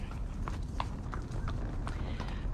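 Horse hooves clip-clop in a steady, moderately paced rhythm during a ride at an equine counseling facility, heard at middle distance over a broad hiss of outdoor background noise.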